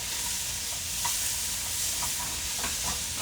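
Onions sizzle in oil in a pan for a cumin lentil rice pilaf, a continuous loud hiss with a few soft stirring scrapes, close up and without talking.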